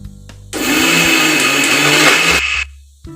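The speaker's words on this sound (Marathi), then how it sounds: "त्याच मिक्सरमध्ये तीळ आणि किसलेला गूळ सोबत मिक्सरमधून बारीक वाटून घ्यायचा" A mixer grinder whirs loudly at full speed for about two seconds grinding sesame seeds and grated jaggery, then cuts off, with quiet clatter before and after.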